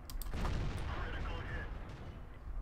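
A single heavy cannon shot from an M46 Patton tank in World of Tanks, a sharp boom at the start followed by a rumbling decay, with someone talking over the tail.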